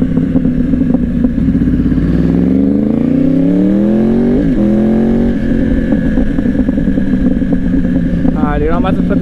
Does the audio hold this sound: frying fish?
no